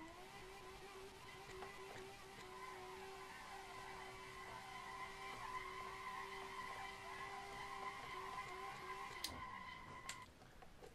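A Tofaş car drifting on a mountain road in Assetto Corsa, a sustained, steady tire squeal over the engine drone that holds for about nine seconds and then breaks off with a few sharp ticks.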